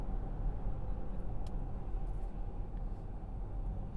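A 2020 Jaguar I-PACE electric car accelerates with a steady, dense rumble of road and cabin noise, even and unbroken throughout, and no engine note or speech.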